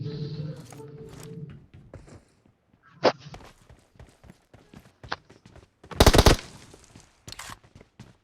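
Gunfire in the mobile game BGMI comes as a few sharp, separate bursts, one loud volley near the middle and a heavier cluster later, with quiet gaps and faint voices in between.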